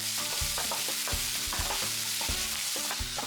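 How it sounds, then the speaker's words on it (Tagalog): Onion softening in a pan after garlic, stirred with a utensil that knocks and scrapes in a steady rhythm over a continuous close sizzle, with no voices. "Then next, ang onion. Lutuin ito hanggang sa lumambot na."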